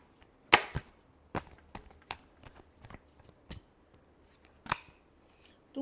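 Tarot cards being shuffled by hand, a series of crisp slaps and riffles, one sharp near snap at the start and lighter scattered card flicks after, with no talking.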